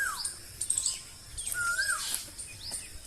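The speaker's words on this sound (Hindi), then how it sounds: "दोबारा कैमरा कोयल की आवाज सुनाने के लिए खोला।" An Asian koel calls outdoors with clear whistled notes that rise and fall, mixed with other scattered bird chirps at moderate distance.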